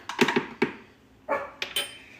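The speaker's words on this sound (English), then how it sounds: "Our dogs love to bark at everybody." Pet dogs in a home kitchen bark at someone passing outside, a quick cluster of sharp barks followed after a pause by a few more, fairly close and loud.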